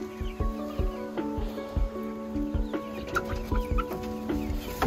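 Farm chickens settling for bedtime give a steady run of repeated short clucks, close and moderately loud, with a faint continuous hum behind them.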